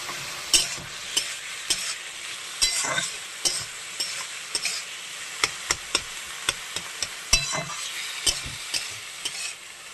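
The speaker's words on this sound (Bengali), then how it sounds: "বন্ধুরা, থোর ভাজা প্রায় হয়ে এসছে, একটু ভাজতে ভালো করে।" Banana stem fries in a pan with a steady sizzle while a utensil stirs and scrapes it, knocking against the pan in repeated sharp clacks. The sound is close, with no talking.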